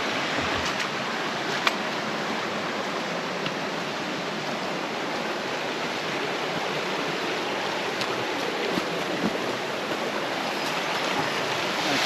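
Straw Falls, a tributary waterfall of the Erskine River swollen by heavy rain, roars as a steady, dense rush of water close by, unbroken and loud throughout.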